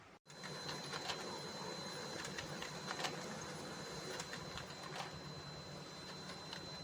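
A Brother DCP 2541 printer runs after a used replacement fuser is fitted, giving a steady close mechanical whir with faint repeated clicks after a brief start-up.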